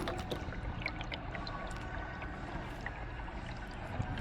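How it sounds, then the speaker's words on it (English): Indoor water feature in Sunrise Mall during demolition, giving a steady, even wash of splashing and trickling water with no talk. "We kept this water feature."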